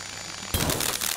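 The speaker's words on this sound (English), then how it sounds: "Drill is on." A drill in the video game Stories Untold kicks on abruptly after a short quiet stretch, then runs as a loud, steady, rough mechanical whir with slight pulsing.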